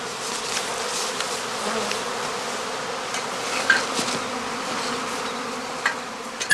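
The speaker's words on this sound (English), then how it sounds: "swarming bees soon form a new cluster again" Swarming honeybees gather at a heather skep apiary during the cast swarming period, a dense, continuous buzzing hum with the occasional louder bee zipping close by.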